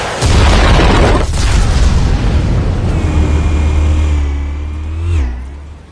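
Explosives detonating in a video game: a loud, sustained rumbling boom with a deep low roar that sweeps downward near the end, then slowly fades.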